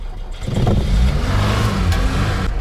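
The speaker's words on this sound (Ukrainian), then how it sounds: "Так що зараз у нас холодний старт" A VAZ Zhiguli engine on a cold start: a loud, close, rough engine roar that rises quickly and holds a steady throaty running tone.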